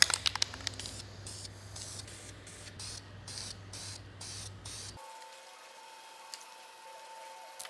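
An aerosol can sprays primer onto a V12 BMW 850CSi in a run of short, sharp hissing bursts over a low hum, then stops, leaving a faint steady tone.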